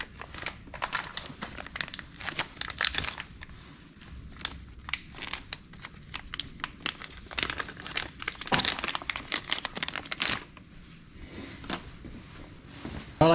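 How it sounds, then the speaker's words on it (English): A new fuel injector for a 2007 Chevy Silverado 5.3 is pulled from its plastic package, giving close, irregular crinkling and rustling bursts over about thirteen seconds. "And pull it out of the package."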